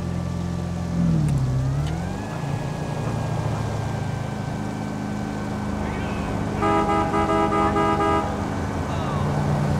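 A Rolls-Royce drives in GTA 5 with a steady engine drone throughout, punctuated by a loud, sustained car horn blast that sounds for a couple of seconds near the end; someone talks over the driving.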